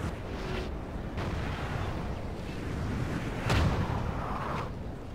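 Artillery in Napoleon: Total War booms over a dense, rumbling battle bed, a few distinct dull blasts rising from the constant roar, the loudest near the middle-end.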